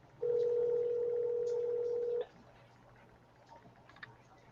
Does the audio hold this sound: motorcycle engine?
no